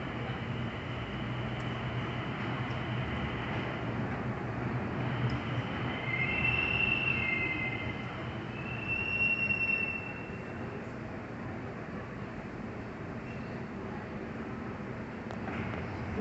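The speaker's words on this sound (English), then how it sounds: "The train is arriving." An automated people-mover train at Washington Dulles airport rolls into its station with a steady, close rumble. High metallic wheel squeals rise briefly midway before the sound settles back to a low drone.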